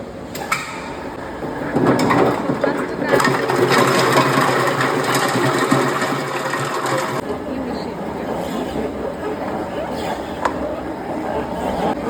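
A coconut oil mill machine runs at a mill, a loud dense mechanical rattle and grind for the first seven seconds, then easing to a lower steady whir with occasional clicks.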